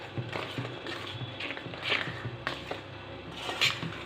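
Jaggery syrup is stirred into unniyappam flour to make a thick batter, giving a soft, continuous scraping and rasping of a spoon in the bowl with a few sharper knocks. It is moderately close and no one speaks.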